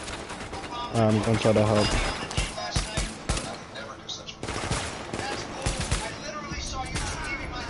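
Rapid video-game gunfire crackles in bursts with sharp impacts, mixed with game sound effects while someone talks over the action.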